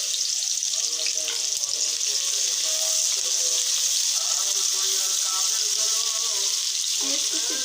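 Chopped onions sizzle steadily in a hot pan for chicken shahi rezala, a continuous bright frying hiss with faint clinks, close and fairly loud, no talking.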